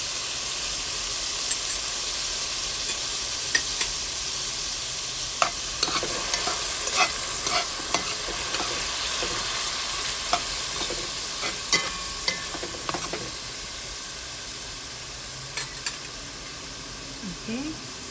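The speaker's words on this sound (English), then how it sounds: "while it's sauteing, I have the bell peppers and a little bit of the brine." Bell peppers and brine sauté in a pan for arroz con gandules, a steady close sizzle with scattered crackles and pops running throughout, no talk over it.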